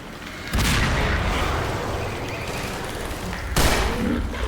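Bomb blasts in a fan-made Half-Life 3 shooter: two loud, booming detonations roughly three seconds apart, each followed by a sustained rumbling roar that fills the whole stretch.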